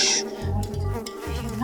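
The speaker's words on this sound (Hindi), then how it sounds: "ये तो मधुमक्खी है।" A honeybee buzzes close by in a drama scene, a wavering insect drone that rises and dips over about a second and a half, heard alone without speech.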